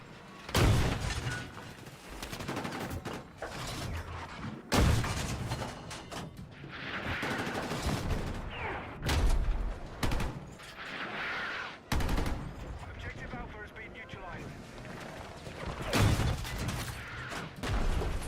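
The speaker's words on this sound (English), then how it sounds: "We are getting mortared like crazy" Battlefield 6 match under mortar fire, with repeated sharp blasts and heavy gunfire bursts near and far in an irregular barrage, separated by brief lulls.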